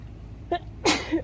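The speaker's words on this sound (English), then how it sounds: "I've got to sneeze" One close, sharp sneeze bursts out after a brief intake of breath, loud and alone against a quiet room where basil cuttings are being prepared.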